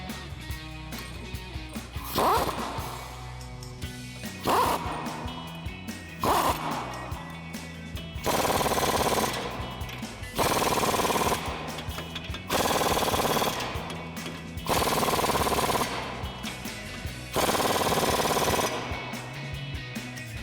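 Lift kit nuts on a 2019 Silverado 1500 Rough Country 3.5-inch suspension are driven down in a crossing pattern with a power tool: loud hammering bursts, four shorter ones and then four longer ones, separated by quieter pauses.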